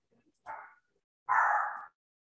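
Dogs bark indoors in two short bursts, a brief yap followed by a longer, louder bark, close by with quiet gaps between.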